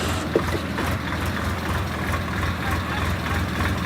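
A Swaraj 100HP tractor diesel engine idles steadily close by, a low continuous rumble with a faint knocking pulse that holds level throughout.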